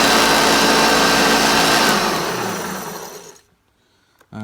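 A Hoover Junior U1104 vacuum cleaner motor runs with a loud, steady whirring drone, then winds down over about three seconds to near silence before a brief burst returns at the end.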